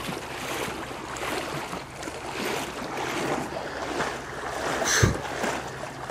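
A vehicle pushes through floodwater on a Pennsylvania highway, a continuous washing and churning of water with a low rumble, steady and fairly close, with a brief thump near the end.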